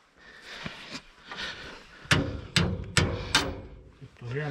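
Several sharp hammer blows ring out, four strong, evenly spaced strikes in a row after some lighter knocks, close to the microphone, with someone speaking Finnish around them.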